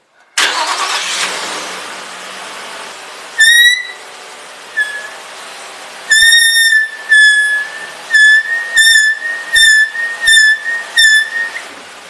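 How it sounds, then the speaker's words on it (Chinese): A Nissan Teana's left wheel, tyre removed, gives a shrill squeal from its brake pad rubbing the disc under light braking in reverse. A steady hiss runs under repeated sharp, whistle-like squeals that come in short rhythmic bursts, loud and close. "所以这个声音是因为刹车片与刹车盘之间轻微摩擦产生的。"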